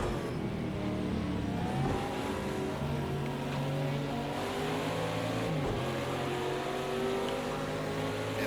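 Mustang race cars roar around Laguna Seca in a racing game, a loud, continuous engine drone with shifting pitch as the cars sweep past, with no voices.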